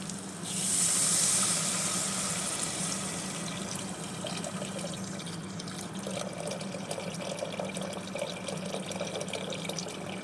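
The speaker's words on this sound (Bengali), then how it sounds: "এখন আমি এটা যতটুকু আমার বেগুন এবং আলু সিদ্ধ হতে লাগবে আমি ততটুকু পানি এর ভিতরে দিয়ে দেব।" Water is poured into a hot pan of lightly fried eggplant and potatoes, giving a loud hissing burst that settles into a steady sizzle and bubbling, close up, with no talking.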